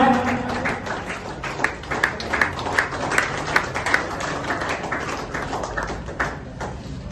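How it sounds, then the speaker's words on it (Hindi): An audience at a state coordinator office opening for an organic products company in Daltonganj claps in a welcome, a loud, fairly rhythmic patter of hands that fades slightly, with a voice nearby. "प्लीज ताली बजा के स्वागत करें।"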